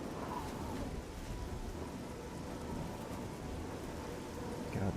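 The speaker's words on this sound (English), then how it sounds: "It's still raining and storming." Steady rain and rolling thunder from a thunderstorm in the video game The Elder Scrolls IV: Oblivion, a continuous broadband wash that stays fairly even and holds throughout, with no voices.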